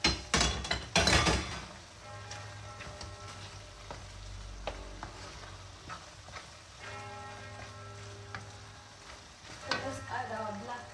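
Ragu simmers in a pan while it is stirred, with a soft bubbling sizzle, a few loud utensil knocks at the start and quieter clinks and scrapes afterward, heard up close.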